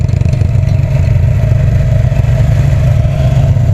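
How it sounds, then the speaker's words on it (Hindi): Close, loud running of a jugaad vehicle built around a diesel Bullet engine: a deep, steady knocking idle with clattering mechanical rattle, holding level the whole time without speech. "डीजल बुलेट वाला इंजन है।"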